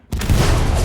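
A whole magazine of gunfire empties in a competitive online shooter match, bursting in suddenly after a brief silence as loud, dense rapid shots that run without pause.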